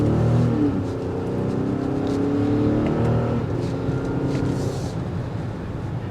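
A 2024 Infiniti QX60's naturally aspirated V6 accelerates from inside the cabin, a steady rising engine drone with gear shifts, heard alone without talk.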